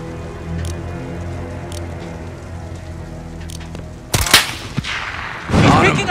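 Sniper gunshots on a highway in Call of Duty: Modern Warfare: after a stretch of low droning hum, a loud sharp blast with a crackling tail lands, then another heavy burst near the end.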